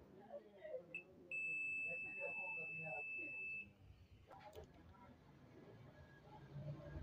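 A multimeter on continuity mode tests a fuse and gives one loud, sustained electronic beep lasting about two seconds, with quiet background talk and handling noise before and after it.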